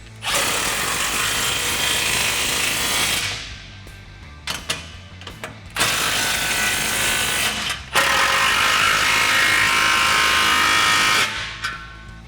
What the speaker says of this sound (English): we're gonna go ahead and tighten these down with our 15mm socket